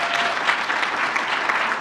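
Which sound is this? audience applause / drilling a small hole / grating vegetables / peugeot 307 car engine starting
audience applause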